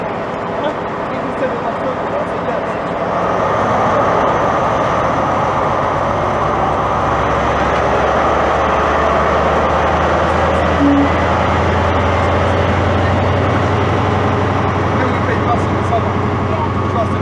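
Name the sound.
train departing Peterborough station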